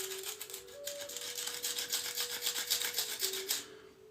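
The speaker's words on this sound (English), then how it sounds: "the reason I'm sharpening this up right here is to get those really fine, small initiation flakes" Stone edge being abraded for flintknapping, a steady gritty rubbing rasp with repeated strokes, close and moderately loud, a faint tonal hum running underneath.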